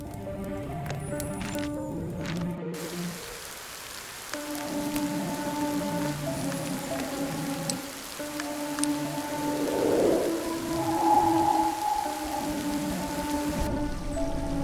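Steady rain patters across a scene in the video game Mystery Detective beneath a soft musical drone, with brief low rumbles and no one speaking.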